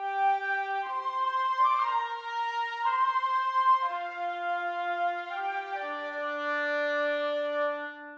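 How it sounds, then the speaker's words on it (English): A woodwind passage in which an oboe doubles three flutes an octave below. Clean, sustained notes move stepwise in a slow, even line, played alone and at moderate volume. "the oboe doubling an octave down from flutes a three"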